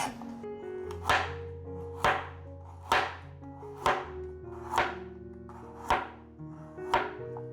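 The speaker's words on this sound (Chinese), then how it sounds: "把红萝卜切细条状" A knife chops a peeled carrot into thin strips on a cutting board, about seven sharp, evenly spaced strikes close up, with a faint tonal hum underneath.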